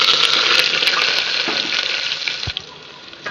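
Onions and curry leaves sizzle loudly in hot oil, a constant crackling hiss that eases slightly near the end, with a brief clink of a utensil.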